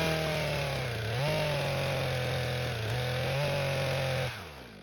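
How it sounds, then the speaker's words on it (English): Chainsaw boring into the base of a big tree at ground level, a loud, close, steady engine whine whose pitch dips under load a few times before dropping off at the end. "I'm going to bore into it a little bit right at ground level just to see how solid it is inside."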